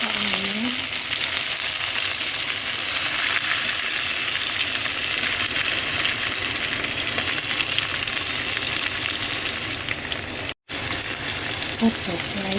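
Onion drops into a hot pan for a beef vegetable curry and sets off a loud, steady frying hiss that continues throughout. A brief cut interrupts it near the end, and a faint voice is heard under the sizzle.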